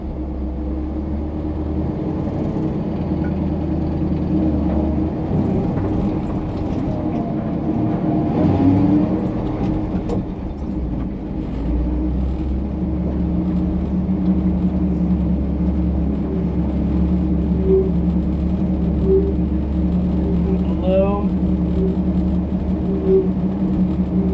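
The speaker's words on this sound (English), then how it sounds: "Power steering pump sounds like it needs some fluid, huh?" A vehicle engine runs steadily while driving, with a power steering pump whining for lack of fluid; a continuous low rumble and hum with faint rising whine tones, close and unbroken, no talk.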